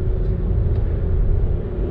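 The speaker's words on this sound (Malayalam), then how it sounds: "നമ്മളിപ്പോൾ എക്സ്ക്ലൂസീവ്ലി ഡബ്ല്യു ആർ വി ഡീസലാണ് ഓടിച്ചുകൊണ്ടിരിക്കുന്നത്" Inside a 2020 Honda WR-V facelift diesel while driving, a steady low engine drone and road rumble continue without a break, heard from the cabin.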